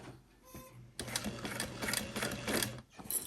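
Sewing machine stitching through fabric layers of a handbag, starting after a quiet moment and running as a steady, close, rapid mechanical whir for about two seconds before stopping briefly and resuming.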